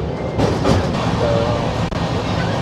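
A delayed passenger train pulling out of Malda station, its steady low rumble and wagon rattle heard from inside the carriage, loud and continuous.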